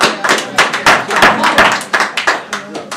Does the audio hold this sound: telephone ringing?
no